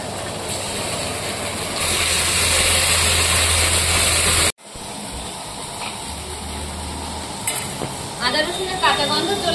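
Ginger-garlic paste hitting hot oil with browned onions, a steady loud sizzle with stirring scrapes, briefly cut off midway, then resuming with a few clinks near the end.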